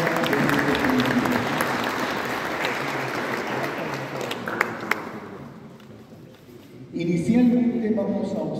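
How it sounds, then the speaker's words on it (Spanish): An audience claps steadily at a Christmas concert in Tarata, a broad, continuous wash of applause that fades out before a voice resumes speaking near the end. "Un aplauso para todos nosotros que en esta tarde nos reunimos para disfrutar de este concierto."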